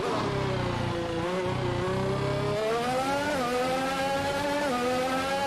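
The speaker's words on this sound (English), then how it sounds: "How's the engine noise for you, VG?" Car engine noise in a video game: a continuous loud, droning motor with rising and falling pitch as it revs and shifts, filling the whole stretch without any talk.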